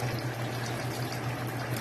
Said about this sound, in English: pour myself a nice glass of something